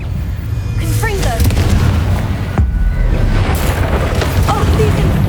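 A Confringo explosive spell blasts in Hogwarts Legacy, a sharp boom cutting through dense, loud game combat noise, with voices speaking briefly over the din.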